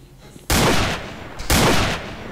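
Two loud, sharp gunfire bursts about a second apart ring out close in the S.T.A.L.K.E.R. Narodnaya Solyanka mod, each with a short fading tail.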